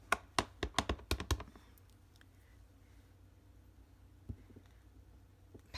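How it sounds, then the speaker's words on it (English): A rubber stamp being inked on a Pool Party ink pad, heard as a quick run of about seven close tapping pats in the first second and a half, followed by quiet room tone and one faint later tap. "I may need to ink up my Pool Party"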